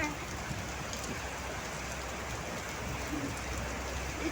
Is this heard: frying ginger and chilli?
no